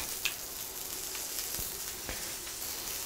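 An egg frying inside a ring in a hot pan gives a steady, even sizzle with faint crackles and a couple of soft pops, close and continuous with no talking.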